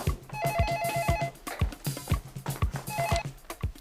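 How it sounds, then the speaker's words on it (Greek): Telephone ringing in a home, short repeated electronic ring bursts sounding in a rhythmic pattern over background thumps and household noise. "Σήκω στο τηλέφωνο."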